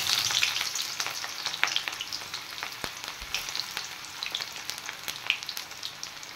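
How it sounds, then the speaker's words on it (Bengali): Chopped onion frying in hot oil in a pan, cooked for a fish recipe with bele fish: a steady close sizzle and crackle with scattered sharp pops and spatters, continuing alone without talk. "এবার পেঁয়াজগুলো একটু হালকা ফ্রাই করে নেব"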